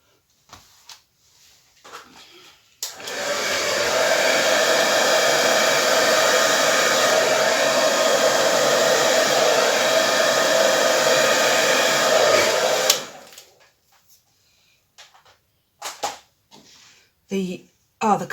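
A hair dryer blows across wet acrylic paint in a Dutch pour, a loud, steady broadband whoosh lasting about ten seconds that cuts off sharply, followed by quiet room clatter and small knocks.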